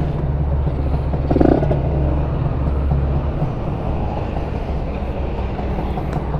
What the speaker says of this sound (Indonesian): Ini 900-an ya paling langsamnya. Kecil banget.